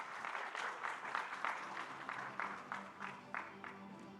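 Audience applause at the 6th Africa Pension Supervisors Association gathering, moderately close and steady, rising and falling in waves over a faint background hum.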